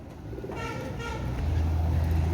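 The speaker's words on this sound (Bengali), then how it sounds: "এত কম প্রাইসে এত সুন্দর কবুতর দেখেন" Pakistani pigeons coo faintly beneath a steady low rumble and background noise, with soft, short calls that barely rise above the hum.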